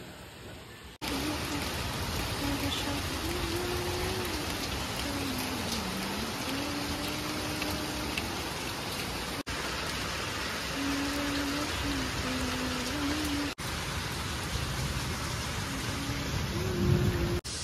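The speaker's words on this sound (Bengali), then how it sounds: "তো এই জানলার ধারে বসে বসে এখন বৃষ্টি দেখছি।" Rain falls steadily outside a window, a continuous even hiss lasting the whole stretch with a faint tonal hum underneath and no clear speech.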